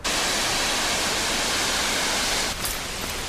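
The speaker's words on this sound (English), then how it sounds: "You hear the waterfall?" A waterfall roars as a dense, steady rush of falling water, loud and continuous with no voices.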